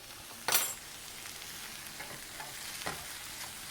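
Soft, steady sizzle of mushrooms frying in a pan, with a few brief scrapes or stirring clatters over the constant hiss.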